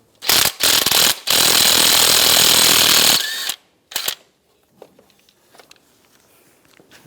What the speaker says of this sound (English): Now I'm going to use a 13mm socket. Take this nut off.